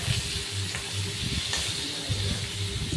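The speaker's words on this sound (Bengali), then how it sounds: "ইলিশ মাছ ভাজা করছি বন্ধুরা" Hilsa fish frying in a pan, a steady bed of sizzle and hiss that runs the whole time, with low stirring bumps and knocks breaking in at intervals.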